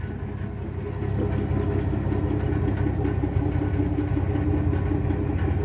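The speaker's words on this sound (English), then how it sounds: "Now it's interesting because you hear this bit of a rattle." A 1981 Ford Mustang with a new HEI distributor idles steadily and close by, a low rumbling drone that rises slightly after the first second, with a faint rattle running through it and no voices.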